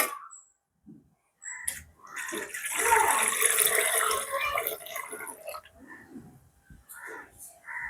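Milk is poured into a pot for a porridge-style sweet, a continuous liquid splashing and gurgle lasting a few seconds, close by, with a voice talking before and after the pour.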